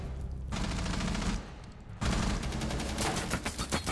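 Rapid automatic gunfire in the video game Rainbow Six Siege, a short burst followed by a longer stretch of sustained fire, fairly loud and without talk.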